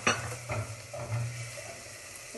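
Chopped onion frying in a hot pan while being stirred, a soft steady sizzle broken by a few scraping stirring strokes, fairly quiet and close.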